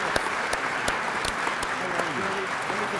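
An audience applauds at a 100th anniversary of Albania gathering in Washington, a steady crowd of claps with a few sharp nearby hand strikes, while a voice talks over it toward the end.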